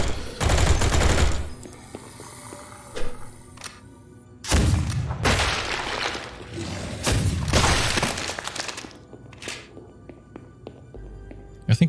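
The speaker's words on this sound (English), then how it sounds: "The dual-wield auto shotguns, though, they just absolutely tear." Dual-wield auto shotguns blast in bursts in the retro shooter Project Warlock 2, loud rapid volleys separated by short gaps, with shattering and thudding impacts.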